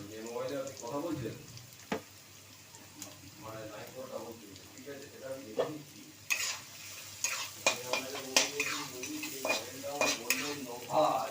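Parshe fish fry in oil in a wok. A person talks over a soft background sizzle that becomes louder and crackling partway through, with occasional stirring clinks.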